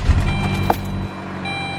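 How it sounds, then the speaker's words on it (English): A loud car engine rumbles up close, its low drone heavy for about a second before dropping to a lighter, steadier hum, with a short click near the end. "You can kind of hear the engine now."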